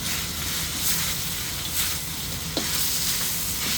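Chicken pieces, including wings, sizzle and fry steadily in a pan as they turn golden brown, a continuous crackling hiss with a brief stir or clink partway through, no talking.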